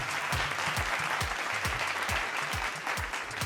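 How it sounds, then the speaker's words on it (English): Audience applause at an award presentation honoring actress Kiara Advani, a steady, dense wash of clapping from a crowd that holds at even loudness throughout with no voices. "A big round of applause, please."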